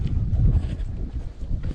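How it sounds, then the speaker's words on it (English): Steady low wind rumble buffets the microphone, a continuous blustery roar outdoors with no clear voices. "Oh, it's a bit windy."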